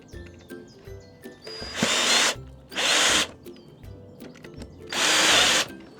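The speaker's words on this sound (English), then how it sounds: "I'm going to screw those onto there with these screws" A power drill drives screws into a wooden board in an allotment garden, running in three loud bursts of whirring, each lasting about half a second to a second, with short pauses between them.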